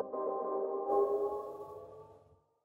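A short synth stab rings out and decays through a swelling reverb feedback tail, fading to silence within a couple of seconds.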